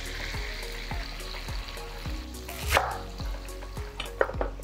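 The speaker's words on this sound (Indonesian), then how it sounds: "Ini akan kita goreng aja biar langunya hilang ya" Cabbage for a Magelang kupat tahu dish fries in hot oil with a steady loud sizzle, broken by repeated sharp scrapes and taps of a utensil stirring in the pan.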